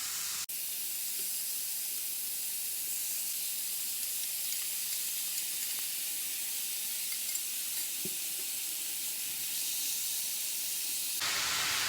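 Chicken fajita meat sizzles in a hot pan over high heat, a loud continuous hiss and spatter that holds for around ten seconds with a brief clatter at the start.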